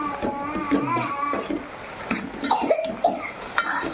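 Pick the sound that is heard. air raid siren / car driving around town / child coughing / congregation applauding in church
child coughing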